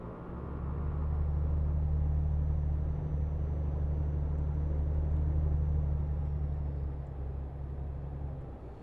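Truck driving in Euro Truck Simulator 2, a steady low engine rumble and road drone that holds evenly and fades slightly near the end, with no talking.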